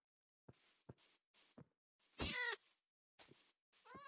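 Several short, close meows from a cat in the Minecraft video game on Nintendo Switch, spaced irregularly with one longer, louder drawn-out cry in the middle and another rising meow at the end.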